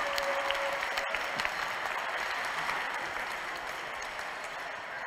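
Crowd applause fills a church during a Catholic mass honoring Venerable Francesco Convertini, a dense sustained clapping that holds steady and fades slightly toward the end, with no voices over it.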